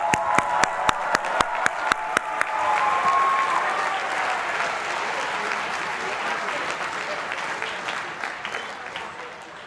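A large audience applauds graduating bachelor's degree recipients at an engineering school commencement ceremony in 2022. Several sharp claps open the clip, then sustained applause fills the room before slowly fading.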